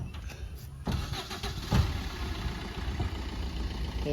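A Maruti Swift Dzire engine cranks and catches close by, then settles into a steady, even idle that continues to the end.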